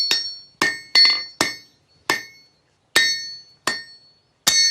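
A blacksmith's hammer strikes an anvil in a steady series of about eight bright, ringing metallic clangs, each decaying quickly before the next, close and loud with no talking.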